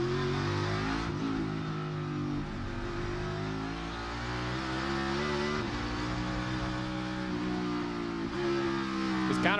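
NASCAR Cup Series race cars roar around the Brickyard at Indianapolis in a close battle, with steady, loud engine drone and shifting pitch as several cars run together, no voices over them.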